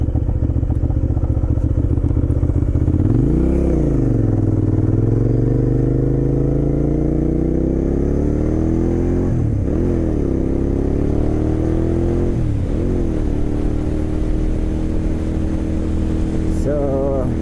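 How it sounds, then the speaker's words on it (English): A learner's first motorcycle, ridden on the winding NC 209 road, runs loud and continuous, with sharp throttle blips rising and falling about three times against steady engine drone and wind. "I gotta learn to blip the throttle better on this."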